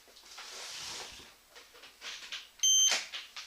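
A LiPo battery charger, hooked up to recover a damaged cell, gives one short, sharp electronic beep near the end, after a stretch of soft rustling and handling noise.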